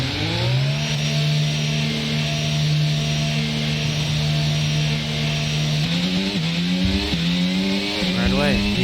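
An F1 race car from the F1 22 video game laps the Canadian Grand Prix circuit. The engine sustains a loud steady whine, with sharp downshifts and revving near the end.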